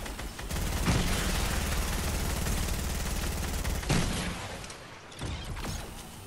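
A boat's big cannon firing in the Fortnite video game, heavy rapid blasts in a loud sustained barrage, pausing briefly before a second volley and a few trailing booms.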